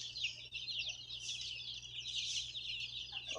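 Hatchery chicks peep in a dense, continuous high-pitched chorus, fairly faint and steady throughout.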